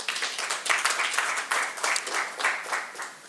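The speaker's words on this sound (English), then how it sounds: "So please give them a round of applause." Audience applause at a city press briefing, a steady wash of many hands clapping in a room, moderately loud and even with a few sharper claps standing out, continuing without talk.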